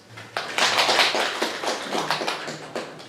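A roomful of people bursts into applause for themselves, dense overlapping hand claps building after a brief pause, then thinning into scattered claps.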